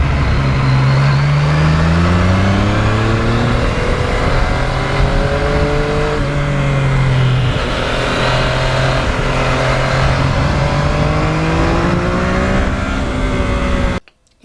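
A Yamaha MT-09 motorcycle engine runs loud and steady while riding past houses, its pitch sweeping up and down through gear changes and throttle shifts for the whole stretch before cutting off abruptly at the end.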